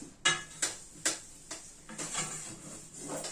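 Pots and utensils being washed in a home kitchen, a few distinct clanks and knocks of metal dishes in the first half, then softer rattling and running-water hiss, fairly quiet and close.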